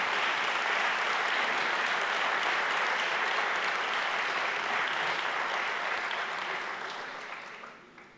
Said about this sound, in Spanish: Denle un fuerte aplauso a Jesús por esta palabra